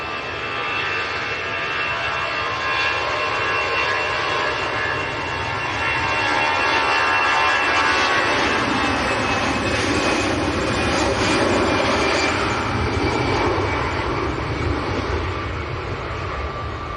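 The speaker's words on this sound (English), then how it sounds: "Airbus A320, here we go." EasyJet Airbus A320 jet airliner bound for Bilbao at Manchester Airport on a windy day, a sustained jet roar with high whine that swells toward the middle and stays loud, wind noise underneath.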